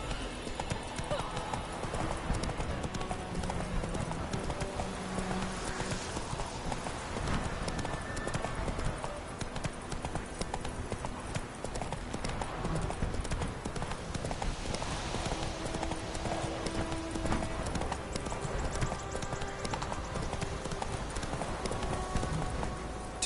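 Roach the horse in The Witcher 3 trots along with steady clip-clop hoofbeats, a brief neigh mixed in, over a dense game soundscape, with a voice speaking briefly.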